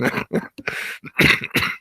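A person coughs in a rapid string of short, harsh bursts mixed with laughing, the fits close and loud with brief silences between them.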